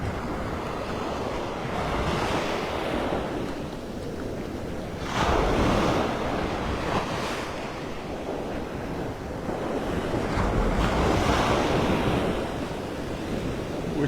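Ocean waves at Vanderbilt Beach in North Naples, Florida, rolling in and breaking in slow repeated swells of rushing surf, loud and near, with wind buffeting the microphone throughout.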